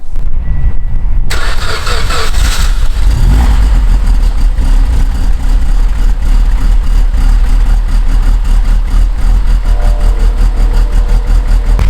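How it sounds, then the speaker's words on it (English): A Subaru WRX (FA engine) starts and settles into a loud, lumpy idle with a rhythmic cam whoop pulse, occasionally blipped higher, close to the exhaust. "You can still hear the cam whoop."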